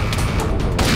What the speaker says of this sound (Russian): Я гранату ему закинул